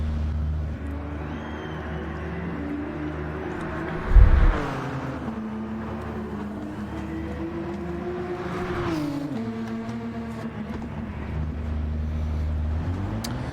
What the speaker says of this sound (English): I hear some cars out there